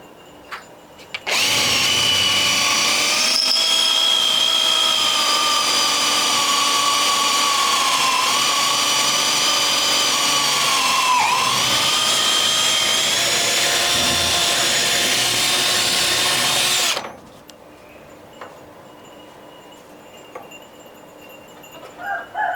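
A power drill runs continuously for about fifteen seconds, driving into wood to pin three pieces together, its loud whining motor steady with slight pitch dips, then cutting off to near silence.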